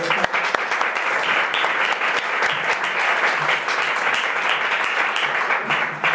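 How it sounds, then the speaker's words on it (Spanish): An audience at a talk against sexist violence gives an invited speaker a loud, continuous round of applause. The dense clapping stays even and sustained throughout. "un aplauso muy grande para Clara."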